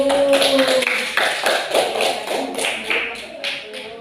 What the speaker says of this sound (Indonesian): tepuk tangan untuk kelompok 1 yang sudah berani maju